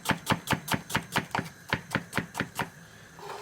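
Eleven or so steady, evenly spaced knife strokes from a thin knife slicing through food on a board, close and crisp, each chop sharp and regular, ending with a short quiet pause.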